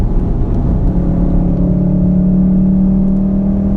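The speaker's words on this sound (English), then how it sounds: "it's got a really nice kind of even-y hum" A 2015 VW Golf R engine gives a steady, smooth, even hum with a low drone held constant inside the cabin, loud and alone without speech.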